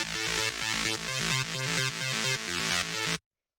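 An analog synth bass layer built from two saw waves an octave apart, techno in style, pulses in a steady repeating pattern of buzzy, bright notes, heard alone and stopping abruptly.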